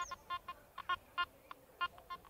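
Faint, quiet chattering blips from a metal detector sweeping with no target, a dozen short tonal beeps in an uneven rhythm over a low hiss, with no one talking.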